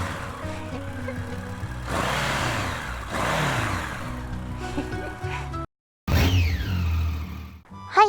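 Honda CB1100 EX four-cylinder motorcycle engine running at moderate volume, a smooth steady hum with rising revs, cutting out briefly before a sharper rev returns.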